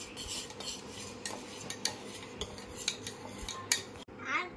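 Rava and finely powdered sugar are stirred together in a metal vessel, giving a steady run of close scraping and clinking strokes that stop near the end, with no talk.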